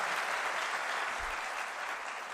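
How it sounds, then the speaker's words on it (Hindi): Dense, continuous clapping from a large crowd at a political election rally, loud and sustained without a break for the full stretch. "मैं जानता हूं कि आप ताली बजा रहे हो"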